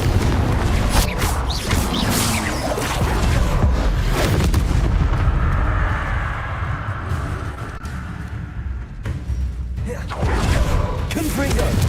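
Confringo fire-spell explosions burst repeatedly in Hogwarts Legacy amid continuous combat noise, loud booms and crashes layered densely throughout with a player's voice occasionally over them.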